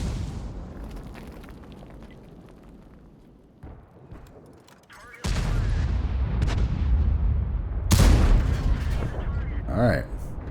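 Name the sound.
tank gun firing in a tank video game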